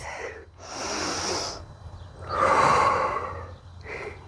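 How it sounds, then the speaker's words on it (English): Deep, loud breaths taken during a yoga hold with arms raised overhead: a long inhale, a pause, then a strong exhale and the start of another breath, close and alone with no talk. "Breathe in deeply."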